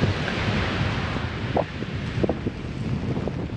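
Strong gusts buffet the microphone of a cyclist riding near the Douaumont ossuary, a constant roaring rumble with a few faint bumps and no speech.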